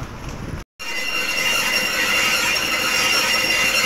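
A machine in a rural mill pounds roasted paddy into flattened rice (chira) with a loud, steady mechanical rattle and clatter. The din cuts out for a moment near the start, then keeps running without voices.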